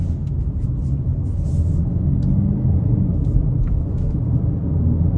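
A 2023 Hyundai Elantra Hybrid Blue accelerating at about a third throttle in comfort mode, heard from inside the cabin as a steady low drivetrain and road rumble that holds even throughout, with no talk.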